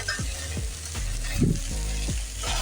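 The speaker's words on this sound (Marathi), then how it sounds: "जिरा राईस बनवत असताना गॅसची फ्लेम नेहमी हायच ठेवा" Rice for jeera rice sautéing in a pan over a high flame, a steady close sizzle broken by regular scraping strokes of a spatula roughly every half second.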